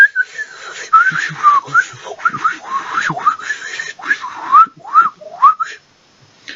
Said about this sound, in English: the prototype fin that actually controls his arrow, whistling like this.